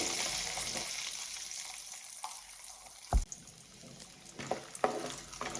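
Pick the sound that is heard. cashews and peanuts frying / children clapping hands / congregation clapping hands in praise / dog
cashews and peanuts frying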